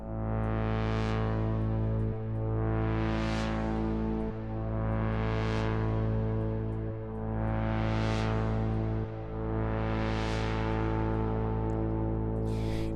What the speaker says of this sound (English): this noise is just adding a little bit to the patch.